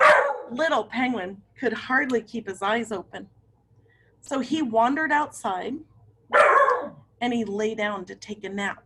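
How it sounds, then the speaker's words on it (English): A pet dog named Stella lets out a couple of loud barks at the mailman outside, heard indoors between stretches of a woman reading a story aloud. "That's my dog"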